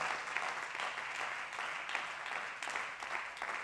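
A church congregation applauding to give glory to the Lord, a steady, dense wash of clapping from many hands that carries on throughout without a break.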